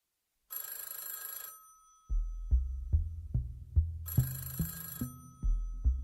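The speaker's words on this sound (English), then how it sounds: "the telephone rang at the Sun Valley Police Department" A telephone at a police department rings in two long bursts of electronic trilling, separated by a pause, while soft rhythmic thumping music plays beneath the second ring.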